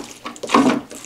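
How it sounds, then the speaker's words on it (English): Water gurgles through a fish tank siphon hose into a watering can, a short, close, bubbling burst that swells in the middle and trails off, with no one talking. "So that noise you hear is some of the gurgling from the siphon, the water going into the watering can."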